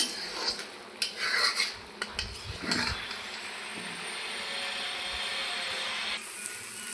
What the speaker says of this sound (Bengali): ভালো করে ভেজে নেব যতক্ষণ না একদম শুকনো শুকনো হচ্ছে